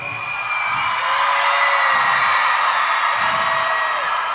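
A live concert crowd at the Blackpool Empress Ballroom cheers during a show, a loud, continuous roar of whoops and shouts that fills the hall without letting up.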